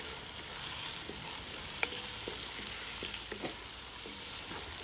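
Lamb fries with salt and fresh bay leaf in a pan outdoors in a garden, giving a continuous close sizzling hiss with a few light knocks of a spoon.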